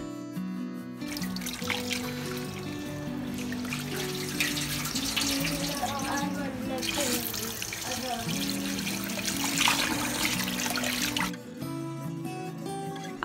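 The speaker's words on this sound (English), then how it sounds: "In between just washing the rice for lunch" Ponni rice being washed under a running kitchen tap, with steady splashing and trickling water close by for several seconds before the flow stops.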